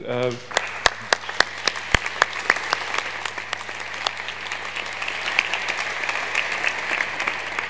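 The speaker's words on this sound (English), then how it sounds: "Please give everybody here a round of applause" A research summit audience bursts into applause, with a few sharp, close individual claps at first that quickly blend into a dense, sustained round of clapping from a large hall crowd.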